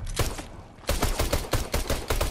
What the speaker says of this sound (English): Oh, you killed that dude with a pistol?